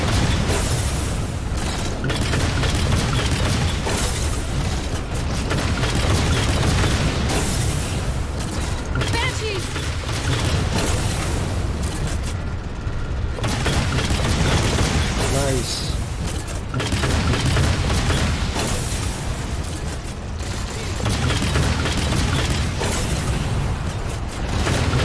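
Rocket launcher explosions in the shooter game Halo 4 boom through a dense, constant wall of battle noise, heavy blasts and rumbling impacts repeating over about 25 seconds with barely any quiet gaps.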